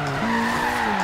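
A Honda Civic Type R in Forza Horizon 3 skids under a yanked handbrake, giving a sustained, tonal tire squeal over an engine drone for about a second, with no talking.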